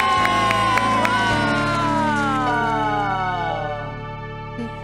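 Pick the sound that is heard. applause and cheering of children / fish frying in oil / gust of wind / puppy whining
applause and cheering of children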